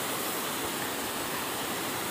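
A mountain river on the Annapurna Base Camp trek rushes beneath a small footbridge, giving a steady, dense broadband roar of flowing water that fills the whole stretch with no talk.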